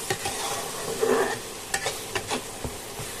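Bou fish masala cooking down in oil until the oil separates, with a soft steady sizzle and a series of sharp spatula scrapes and stirs, close up, with no voices.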